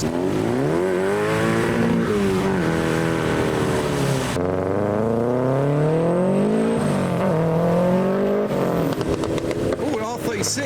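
A modified R36 pulls away from a car show in heavy rain, its engine revving up and down in loud sweeping pulls close by, with people talking over the engine.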